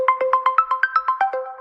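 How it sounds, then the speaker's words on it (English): A smart WiFi video doorbell rings through a phone: a fast run of about twelve evenly spaced electronic chime beeps, loud and close, with no talk. "It rings on the external doorbell, and it also rings on my phone."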